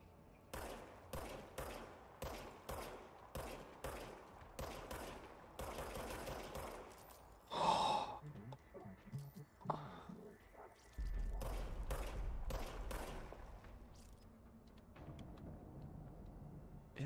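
Gunfire from a weapon in the video game Control: repeated sharp bursts of shots in quick clusters, loud and close, with a thump and a short pause midway before firing resumes.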